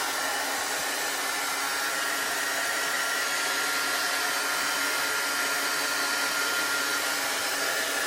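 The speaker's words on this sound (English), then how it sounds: "I'm just going to use my heat gun to dry that" A heat gun drying a Chalk Couture chalk transfer blows a loud, constant airy hiss, close and unbroken for the full eight seconds with no voices.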